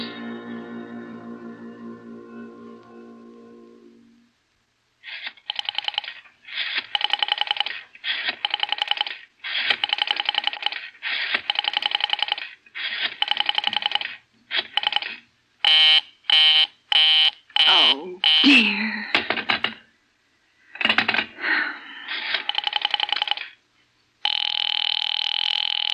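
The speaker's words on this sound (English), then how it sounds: "Operator, I've been dialing Murray Hill" Telephone line signals for a radio drama: a fading dial tone, then a series of regular ringback-style tone bursts, quick dialing clicks and pulses, and a steady continuous tone at the end, close and clear with no talk.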